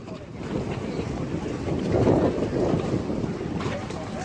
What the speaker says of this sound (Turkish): Bakın nasıl güzel, nasıl güzel dalgaları var